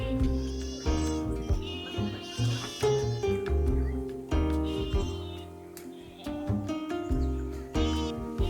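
Goats bleat repeatedly on a farm raised for meat breeding, several overlapping calls rising and falling close by, loud and continuous with faint bird chirps in the background.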